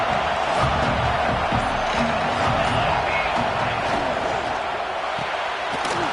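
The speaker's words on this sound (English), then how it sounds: "This big crowd doing everything possible to inspire this defense down here near the goal line." A big football stadium crowd roars steadily during Ohio State vs Oregon near the goal line, a dense, loud, continuous wall of cheering and noise with a commentator's voice faintly underneath.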